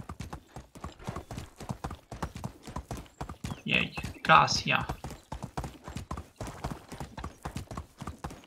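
Horse hooves trot in a steady, rapid clip-clop through Medieval Dynasty, with a brief whinny midway, while someone talks over the hoofbeats.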